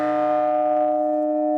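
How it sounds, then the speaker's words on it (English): The smallest original Taylor church bell rings in a single sustained strike, its bright tuned tones humming and slowly decaying, loud and close with no talk. "That's the Taylor bell"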